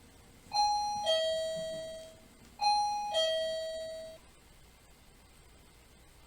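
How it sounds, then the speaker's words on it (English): A ghost-hunting device's doorbell sounds two clear two-tone ding-dong chimes, about two seconds apart, bright and ringing in a quiet room at night in an old hotel. "Maybe that's why you can set the doorbell and the REM pod off."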